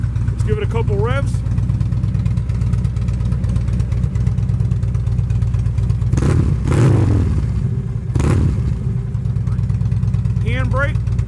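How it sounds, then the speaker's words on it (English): A 2013 Harley-Davidson Street Glide motorcycle engine idles nearby, then revs up sharply a couple of times, with voices talking briefly at the start and end. "Let's give it a couple revs."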